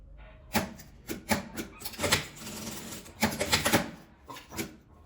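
A sewing machine stitches printed fabric onto a zipper for a small ruffled zip pouch, running in several short close bursts of rapid clattering separated by brief pauses.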